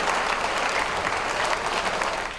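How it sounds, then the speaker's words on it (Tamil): An audience at a Tamil stage event applauds loudly and steadily, a dense wash of many hands clapping throughout, with no voices over it. "எங்களுடைய பேராசிரியர் ரவிக்குமார் அவர்களுக்கு ஒரு பெரிய கரகோஷம்."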